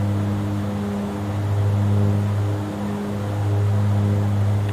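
Turboprop engines of a Porter Q400 airliner in the X-Plane 11 flight simulator, after takeoff from Toronto City, give a steady, loud, droning hum that swells slightly and eases, with no talking.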